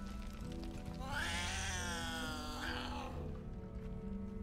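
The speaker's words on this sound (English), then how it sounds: "Is that a cat?" A cat in the video game Baldur's Gate 3 lets out a long, drawn-out meow that rises and falls over a few seconds, heard over a steady game ambience and low background hum.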